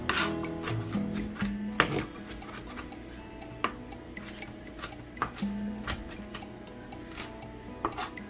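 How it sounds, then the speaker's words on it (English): A knife chops onions small on a cutting board in a home kitchen, making irregular taps and scraping strokes at close range, with faint tonal background music and no speech. "So we're just gonna chop our onions small."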